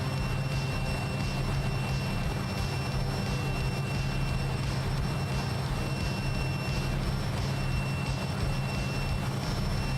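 Jet engines of a Fokker F28 in MSFS 2024 give a steady, continuous roar with a faint rhythmic pulsing and a thin high whine on top, unchanging throughout.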